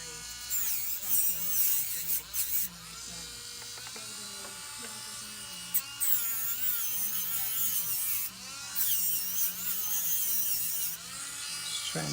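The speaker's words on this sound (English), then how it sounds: "Now I'm going to switch over to 120 grit sanding disc." A small rotary tool with a 120 grit sanding disc grinds a twisted fork ring, a high buzzing whine that rises and dips as it bites the metal, broken by brief pauses.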